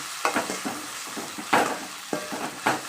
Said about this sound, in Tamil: கட் பண்ணி வச்சுருக்கிறேன் தக்காளி ஆட் பண்ணிக்கிறோம் நல்லா ஆட் பண்ணி அதுவும் நல்லா வதங்கி வரணும்